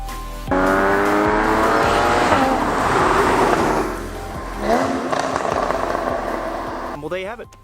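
Porsche Boxster GTS engine cruising in a high gear around 3,000 to 4,000 RPM, a loud, steady droning hum from inside the car, with a rise in pitch partway through and a voice speaking over it.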